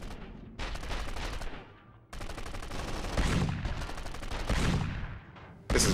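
Gunfire from a weapon in the action game 24: The Game, rapid bursts of automatic shots in sustained volleys, loud and close, with short pauses between strings of fire.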